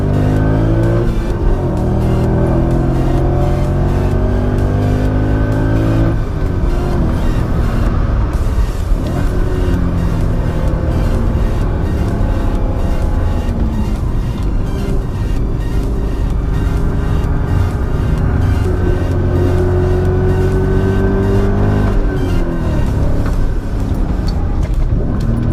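A supercharged BMW M5 accelerates hard around a track, its engine roaring loud and close, climbing through the revs with gear shifts and brief lifts before pulling again, continuous for the whole stretch.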